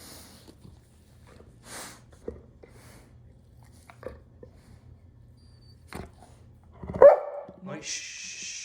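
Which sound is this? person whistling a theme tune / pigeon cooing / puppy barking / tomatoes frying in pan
puppy barking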